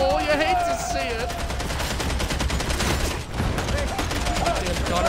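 An enemy gunner in Warhammer 40K Darktide unleashes sustained, rapid automatic fire, a dense rattling stream of shots that pauses only briefly, with voices and game tones in the background.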